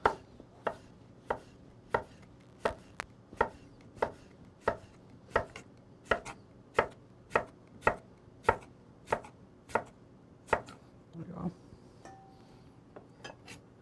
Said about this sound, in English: I'm gonna chop a little apple to get a nice crisp texture in there too.